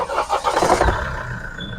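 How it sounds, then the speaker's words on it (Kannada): A 2013 Mahindra XUV500 W8 with its mHawk engine cranks and fires in a short, loud burst with a low thump, then quickly settles into a smooth, steady idle hum. "ನೋಡ್ಬೋದು ಇಂಜಿನ್ ಸ್ಟಾರ್ಟ್ನೂ ಕೂಡ ಆಗಿದೆ, ಎಷ್ಟು ಸ್ಮೂತ್ ಆಗಿದೆ ನೋಡ್ಬೋದು ಇಂಜಿನ್ನು"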